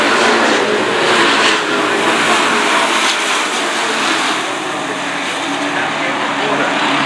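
Race cars at Stafford Speedway's 2024 Spear Bros Kids Night roar past side by side down the back straightaway, a loud, dense engine drone that stays full throughout.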